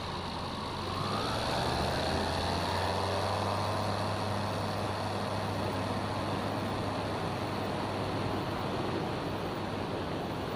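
Inside the cabin of a small airplane during a Young Eagle takeoff run from runway 34 at Auburn, the engine drones loudly and steadily with a broad rushing roar and a low hum that shifts slightly as power builds.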